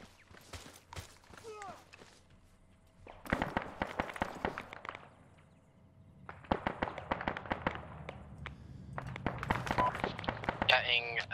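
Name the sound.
heavy gunfire during field training exercise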